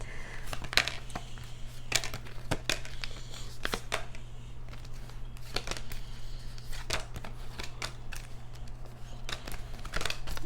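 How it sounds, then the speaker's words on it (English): Love oracle cards being shuffled by hand, a close, continuous crisp riffling with repeated sharp snaps of card edges throughout. "I just kind of mix these cards together, and I pull one from the top and I pull one from the bottom"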